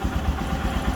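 A Royal Enfield Himalayan motorcycle engine runs just after starting, close and fairly loud, with a quick uneven thumping pulse and some mechanical clatter.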